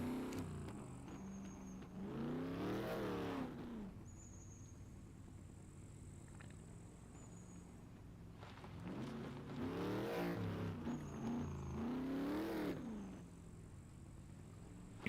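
A tractor in the survival video game SCUM drives past twice, its engine droning up loud and then fading, with a steady lower rumble between the passes.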